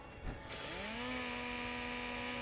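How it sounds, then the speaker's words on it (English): A chainsaw in the video game Fallout 4 revs up and settles into a steady, loud, droning idle, its buzzing engine tone rising then holding constant with no talk over it. "Yeah, chainsaw."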